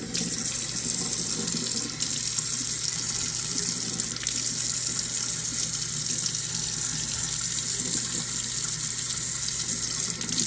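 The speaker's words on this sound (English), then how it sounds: "I'm gonna splash some water in the air gap." Water runs from a faucet and splashes into a sink air gap, a loud, steady gushing hiss that continues unbroken throughout.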